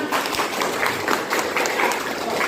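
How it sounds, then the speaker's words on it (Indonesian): A crowd applauding, many hands clapping in a dense continuous patter, fairly loud and close. "Oke, baik, tepuk tangan."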